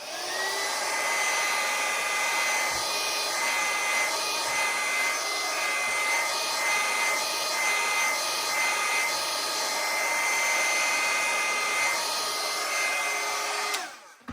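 A hair dryer blows steadily on a watercolour painting, its loud continuous whir held close for about fourteen seconds and then switched off.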